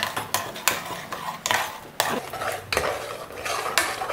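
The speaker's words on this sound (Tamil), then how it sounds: "நல்லா கரண்டியில் நல்லா ஸ்மாஷ் பண்ணிவிடுங்க தயிரை" A ladle stirs and mashes yogurt into beetroot pachadi in a pot, giving a series of scraping, clinking metal-on-pot strokes in an irregular rhythm, close and fairly loud with no talking.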